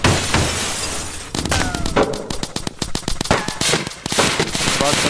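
Rapid bursts of gunfire in the online game Roblox crackle in a fast, uneven volley, loud and close, mixed with shattering clatter while people talk over voice chat.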